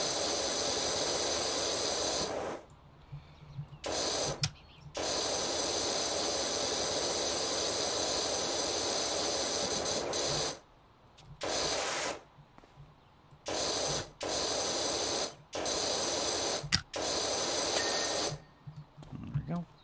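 A pressure washer nozzle sprays steadily in PowerWash Simulator, giving a loud, close, continuous hiss that cuts off and restarts in short bursts toward the end, with a voice talking in places.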